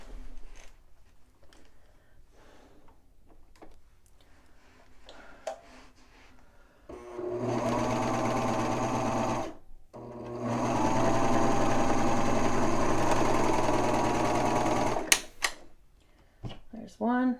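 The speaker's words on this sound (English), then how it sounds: "take it and sew these short ends with the right sides together" A serger sews the short ends of a knit band together, running in two loud, fast whirring bursts separated by a brief pause, with softer handling clicks and a person talking before the stitching starts.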